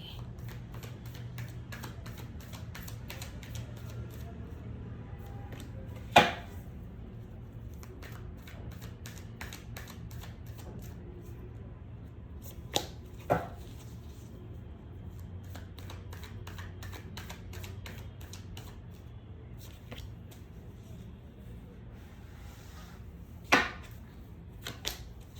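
Tarot cards shuffled and drawn from a deck at close range: a faint, steady rustle broken by a few sharp snaps and slaps, around one, two and four-fifths of the way through.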